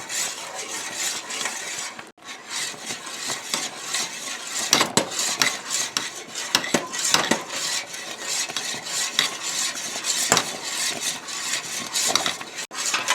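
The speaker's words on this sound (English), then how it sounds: "As I'm stirring here, I'm seeing a little bit of black come to the top" Fudge mixture is stirred constantly in a pan, with a continuous close scraping of a utensil against the pan and occasional clinks and taps. The sound is fairly loud and uneven, with no speech.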